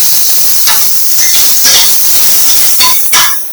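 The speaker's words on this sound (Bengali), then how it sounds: "আবার আমি কড়াইতে সাদা তেল দিয়ে দিয়েছি, এবার আমি উচ্ছেগুলো লাল করে ভেজে নেব।" Bitter gourd frying in white oil in a wok, a steady close hiss that runs throughout with a few brief clinks and stirring accents, no voices.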